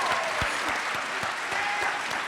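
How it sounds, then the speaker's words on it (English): A dense, steady wash of audience applause at a school MLK Celebration event, honoring performing cultural clubs, with many hands clapping together at a constant, fairly loud level and occasional sharper individual claps standing out throughout. "let's give a big round of applause for our entertainment forte"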